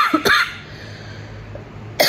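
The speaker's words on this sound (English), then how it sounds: "there's that cough. It's still not gone." A person coughs at close range with a lingering cough, two sharp bursts at the start and another at the end, separated by quiet room tone.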